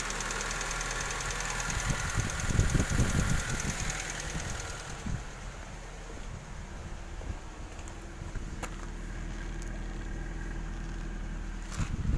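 A Honda Civic FB engine with newly replaced fuel injectors idles steadily and evenly nearby without stumbling, a continuous low rumble with a light mechanical ticking, and a few faint clicks over it.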